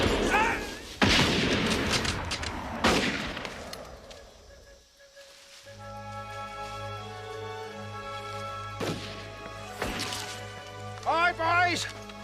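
Gunfire in an action movie battle scene: sharp cracks and thwacks burst out amid loud shouted voices, then give way to a sustained musical tone under further talk.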